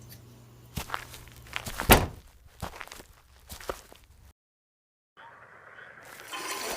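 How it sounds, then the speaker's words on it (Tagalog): Footsteps of someone walking home at night with a flashlight, a horror animation sound effect: several distinct, fairly close steps land unevenly, then the sound drops to silence before a faint hiss returns. "Naglalakad na pauwi si Mikay"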